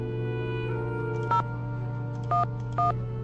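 Phone number being dialed in a Nancy Drew mystery game: three short keypad tones, spaced apart, over a steady low hum with faint background clicks.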